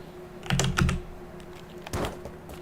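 Keys are pressed to type in a code in the video game Environmental Station Alpha: two short clusters of soft clicks, then a single press, faint and close.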